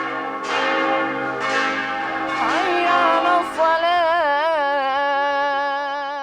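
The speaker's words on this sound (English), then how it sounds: "The Christian church bells are answered by the call of the Muslim muezzin." Christian church bells ring in Mostar, several loud, resonant strikes with long shimmering decays that overlap, giving way to a sustained wavering tone as they fade.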